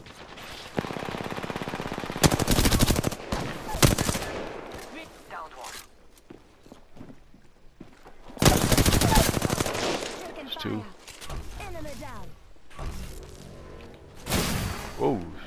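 Bursts of automatic gunfire in a video game, loud and sustained, come in several heavy volleys separated by shorter gaps, mixed with game effects and footsteps.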